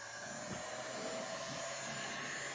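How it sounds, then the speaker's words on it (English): A hair dryer blows steadily on shoe polish to melt it for a boot shine, a constant close whooshing hum with no pauses throughout the short stretch. "We're going to use the hair dryer for this video."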